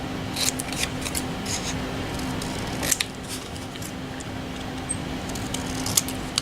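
Scissors cut paper to miter the corners of a mini junk-journal bag cover: a run of crisp, close snips and rustles at irregular intervals, a few sharper cuts standing out, with no speech.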